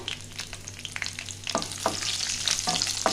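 Green chillies and raisins fry for Bengali basanti pulao, a close sizzle broken by several short scraping stirs and spoon taps, with no voices.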